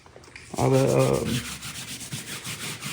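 Drywall patches in a garage shop are sanded by hand with a strong rasping stroke at first, then lighter, softer rubbing passes that continue quietly.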